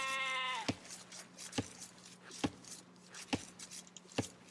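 A single sheep bleats once at the start in a video game set in medieval Ireland, followed by a series of evenly spaced dull knocks like wood chopping under a low steady hum.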